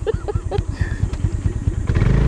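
A motorcycle putters along a narrow rice paddy dike path, its engine chugging in a fast, steady rhythm close by, with a brief rattle and a rise in revs toward the end.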